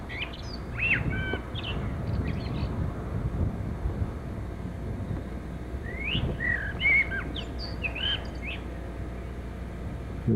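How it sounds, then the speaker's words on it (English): A parrot calls in a rose garden with short, shrill chirps and squawks in two bursts, near the start and again around the middle, over steady low outdoor rumble. "And that's the parrot you hear."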